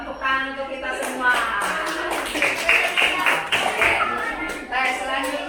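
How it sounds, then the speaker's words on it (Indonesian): Applause and scattered claps from a class of sixth-grade pupils in an Indonesian primary school, sustained and fairly loud throughout, with children's voices and chatter mixed in. "tepuk tangan untuk kita semua"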